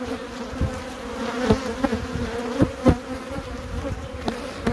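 Honeybees buzz steadily around a hive with drones present, a dense droning hum with individual bees passing close now and then, louder swells over the constant drone.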